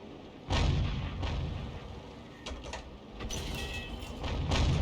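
Main gun of an AMX 13 105 tank in a tank video game fires with a loud, sharp boom near the start, followed by a few quieter thuds and rumbling battle noise.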